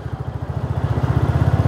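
A motorcycle engine throbs steadily with a regular low pulsing beat while being ridden, close and fairly loud with no talk.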